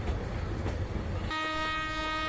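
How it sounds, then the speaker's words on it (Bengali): The Subarna Express train from Dhaka to Chittagong rumbles along steadily, gathering speed after leaving a station, then a long horn blares over the running noise, loud and fairly close. "ট্রেনটি স্টেশন থেকে ছাড়ার সাথে সাথে অনেক গতি তুলে এগিয়ে যাচ্ছে"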